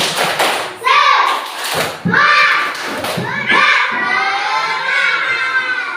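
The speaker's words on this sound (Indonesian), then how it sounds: "Tepuk semangat." Schoolchildren in a primary maths lesson perform a rhythmic spirit clap, loud patterned claps and thumps alternating with the group chanting in unison, close and energetic throughout.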